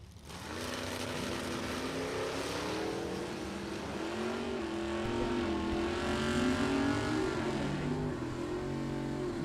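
Two drag race cars, a 1965 Malibu and a 1982 Firebird, roar down the strip at a sportsman drag race, a loud sustained engine drone that swells and climbs in pitch toward the top end.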